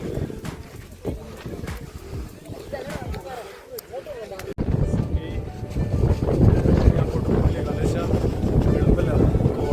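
Strong wind buffets the microphone outdoors in the hills of Vagamon, a steady roaring rumble that grows louder halfway through, with people talking underneath.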